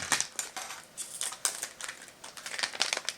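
Scissors snip and crinkle through a plastic Color Street nail strip package, a quick run of sharp, faint cuts and rustles close by with no talking.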